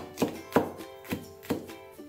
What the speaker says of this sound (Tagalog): So hinihiwa ko po siya na medyo maliliit nang sa ganun, medyo lumabas talaga yung katas ng lasa ng ating bawang.